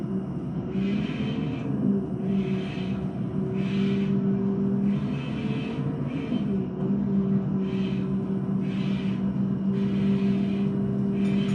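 A city bus in the Bus Simulator Ultimate game drives along with a steady engine hum and low rumble throughout, plus faint periodic higher whooshes that come and go every second or so.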